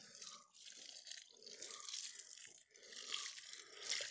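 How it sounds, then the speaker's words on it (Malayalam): Water pours and splashes softly onto soil around a newly planted cucumber seedling in a faint, continuous stream with slight variations in flow. "ഒന്ന് നനച്ചു കൊടുക്കുകയാണ് കേട്ടോ"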